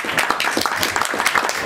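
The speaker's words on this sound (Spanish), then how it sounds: "Otro aplauso" Audience applause at a book presentation in a bar, a dense steady patter of many hands filling the short moment at close range with no talk over it.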